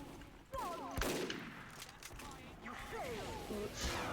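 Gunfire in the video game Team Fortress 2: a few sharp shots and bursts with mechanical clicks, heard under someone speaking Turkish.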